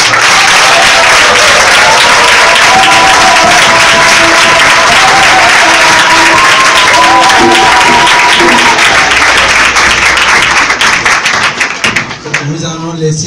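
A church congregation applauds the Lord in a loud, sustained burst of clapping that runs for about twelve seconds with voices mixed in, then fades toward the end.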